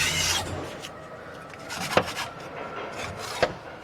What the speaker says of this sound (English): I'm just kind of scraping off all of the extra dirt that's accumulated on this stuff